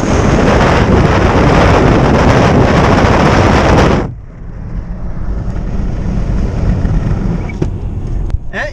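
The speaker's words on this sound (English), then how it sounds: "Super, super strong headwind from the west, and it's freezing cold." Strong westerly headwind buffets the microphone as a car drives, a loud broadband roar for four seconds that drops suddenly to a quieter, steadier rush of wind and road noise.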